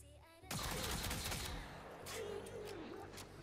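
Tenet Tetra rifle in the video game Warframe opens fire after a brief quiet moment, loosing a dense, rapid stream of shots that carries on loudly to the end.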